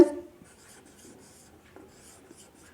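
Soft, scratchy strokes of handwriting on a board as a sentence is written out, steady and faint after an initial tap, with a brief voice murmur underneath.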